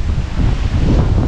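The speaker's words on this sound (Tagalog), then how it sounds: "Lakas ng hangin, kita nyo naman yung puno" Strong typhoon wind buffets the microphone outdoors near trees and a moored boat, a loud, unbroken roaring gust lasting the whole moment with no voices.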